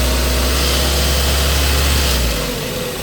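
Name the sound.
heat shield rattling on running Ford Focus Mk1 engine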